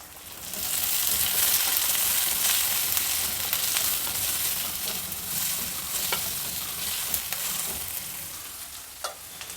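Chopped tomato and vegetables such as beans fry in hot oil for a leftover-rice pulao, giving a steady close sizzle with occasional crackles and stirring scrapes throughout, no voices.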